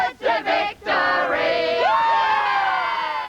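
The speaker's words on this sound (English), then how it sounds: "Excited fans arrived early, warming to the task of cheering their teams over the line." A crowd of excited football fans shouts and whoops before the 2006 AFL grand final, a dense, loud roar of voices with a few sharp cries rising above it.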